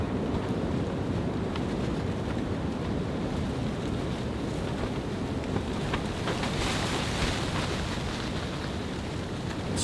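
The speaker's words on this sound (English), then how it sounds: "It is insanely windy, as you can hear." Strong winter storm wind roars steadily against the microphone outdoors at a snowy hot-tent camp, a loud, dense, unbroken rush with gusty swells throughout and no talking.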